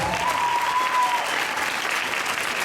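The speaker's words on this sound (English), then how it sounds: "Round of applause." An audience at a pro-life youth conference panel claps steadily throughout, a dense, even wash of applause with no break, loud and close.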